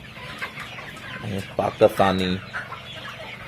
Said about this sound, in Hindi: आप इस वीडियो में इन मुर्गियों को देख सकते हैं।